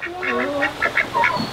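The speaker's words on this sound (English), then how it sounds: "There are the ducks." Ducks quack in a quick series of nasal calls, close and fairly loud, with a few overlapping honks near the end.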